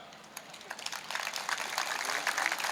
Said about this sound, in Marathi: खूप हळूच टाळ्या वाजवल्या